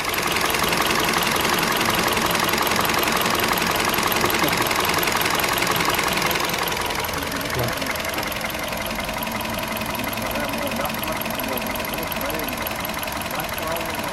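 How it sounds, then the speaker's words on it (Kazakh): A 2015 Hyundai Solaris engine idles steadily, with a constant loud mechanical hum and faint ticking that softens slightly midway; someone talks over it throughout. "Мотор стабильно, четко иштеп атат."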